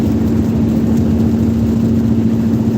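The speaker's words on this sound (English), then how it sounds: "Okay, the big trucks are passing me." Big trucks rolling past on a road, a steady loud engine drone with a strong low hum, continuous for the whole stretch with no voices.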